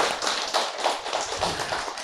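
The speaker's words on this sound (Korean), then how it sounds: "한 번 더 뜨거운 박수 좀 부탁합니다" Church congregation applause at a Sunday autumn invitation service, steady warm clapping from a crowd, moderately close and sustained throughout.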